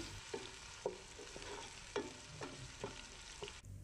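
Chopped garlic and onion frying in a pan, a quiet steady sizzle punctuated by several light taps and scrapes of a spoon stirring, close and faint overall, no voices.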